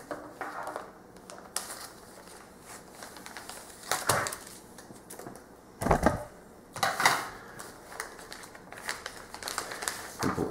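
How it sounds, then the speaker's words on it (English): Scissors snip and slice through the packaging of a wooden board-game organizer, giving scattered crinkles and crisp cuts, with a few louder bursts of cutting and plastic rustle close by. "So I'm gonna go ahead and cut this open."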